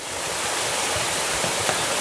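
A small waterfall in a monsoon-season village spills water downhill toward a stream below, a steady, loud broadband rush heard close and alone without voices.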